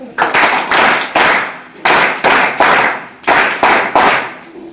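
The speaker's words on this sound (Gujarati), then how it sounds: "આપણે બધાનું સન્માન કરી ફરી એક વખત 3 મિનિટ તાળીથી" Birthday-event audience breaks into loud, close bursts of hand clapping, several separate rounds of applause each lasting under a second with short pauses between.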